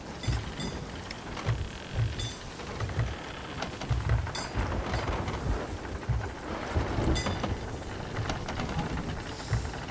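Stormy weather in the pirate video game Sea of Thieves: steady rain hissing over everything, with low rumbling thunder swells and creaking, rattling ship noises recurring throughout.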